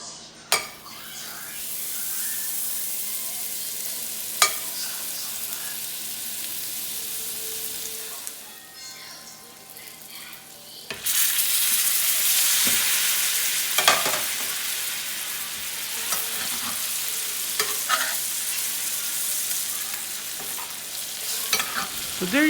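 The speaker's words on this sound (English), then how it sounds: "let's test out this beef bone marrow tallow in cooking a steak" Steak sears in beef bone marrow tallow in a pan with a steady, close sizzle and occasional utensil clinks and scrapes. The hiss eases briefly midway, then returns louder and fuller.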